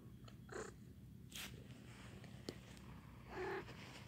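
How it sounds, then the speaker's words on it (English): A house cat purrs softly and continuously nearby, a low steady rumble with a few faint rustles and one small click, and no talking. "My cat's here."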